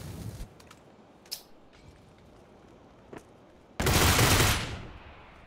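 Gunfire in the PUBG video game, with a few faint sharp shots early on and then a loud, dense burst of rapid fire lasting over a second that tails off, no talk over it.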